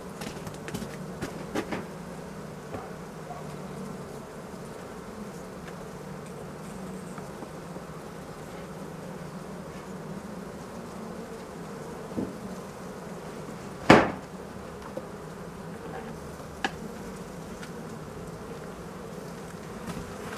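Honey bees buzzing around a hive and a queen cage, a dense continuous drone close by, with occasional knocks and one sharp bang partway through.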